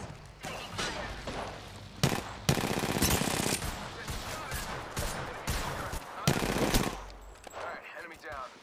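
Bursts of automatic gunfire from Apex Legends gameplay come in rapid fusillades with short pauses between them, loud and close, with game effects layered in.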